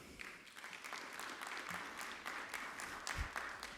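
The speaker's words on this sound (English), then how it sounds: "please give yourself one last round of applause" A crowd at a middle school science fair awards ceremony gives a faint, distant round of continuous applause that holds at an even level throughout.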